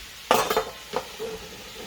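Beef Asian stir-fry with sesame oil in a pan: a lid clanks down with a couple of metallic clinks, followed by a brief soft sizzle, close and fairly loud.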